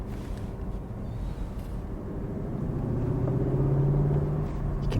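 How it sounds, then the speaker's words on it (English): 2024 Lexus LC 500 Convertible V8 engine warbling at low revs in S Plus mode, a deep steady rumble that swells slightly louder toward the end, heard alone without talk. "You can hear that V8 just warbling along."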